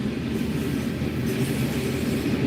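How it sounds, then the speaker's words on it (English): A long train rolls past a railroad crossing in North Florida, heard from a car as a steady, loud low rumble of wheels and wagons with no break, continuous throughout. "Right now, this train is stopping me from getting home because I have to go home on the other side."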